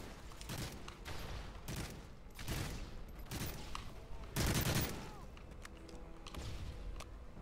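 Bursts of automatic gunfire and explosions from a Call of Duty Modern Warfare 3 Domination match in a village map, rapid repeated shots with a louder blast midway, moderately faint in the game mix.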